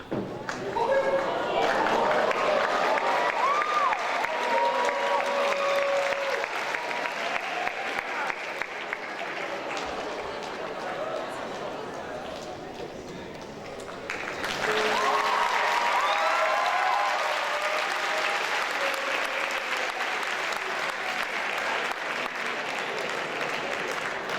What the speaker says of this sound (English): Another round of applause for Justyn Davis